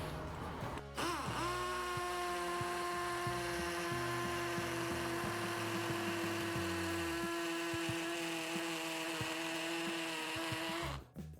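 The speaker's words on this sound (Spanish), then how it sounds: "ya habremos hecho un hoyo en la pared con la ayuda de nuestro taladro" An electric drill bores a hole in a wall for a wall plug, starting abruptly and running as a steady, close whine for about ten seconds with a shifting lower grinding tone before stopping sharply.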